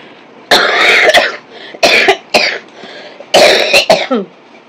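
Harsh, wet coughing comes in three close bursts, each a cluster of hacking coughs separated by short quiet pauses.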